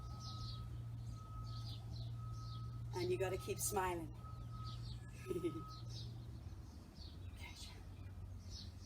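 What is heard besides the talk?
birds cheeping in a garden in the morning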